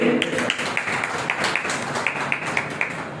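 An audience at a mushaira poetry gathering claps in a steady, rhythmic pattern of sharp, close claps that carries on throughout, with a brief voice at the very start.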